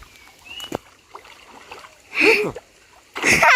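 Splashing from someone swimming in a pond, two loud bursts of churning water between quieter stretches with faint voices and shouts in the background.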